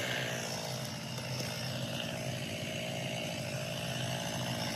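A chainsaw runs loud and steady, close by, while cutting down a tree near a house where a Starlink dish is being set up, with no talk over the engine.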